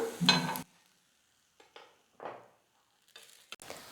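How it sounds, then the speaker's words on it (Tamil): Parotta placed on a hot dosa griddle with a little oil gives a brief sizzle and clatter at the start, then scattered soft scraping and frying bursts with quiet gaps between them. "கல் நல்லா சூடேறினதும் எண்ணெய் கொஞ்சமாக சேர்த்துட்டு தட்டி வச்சுருக்கிற பரோட்டா வந்து போட்டுக்கிறேன்"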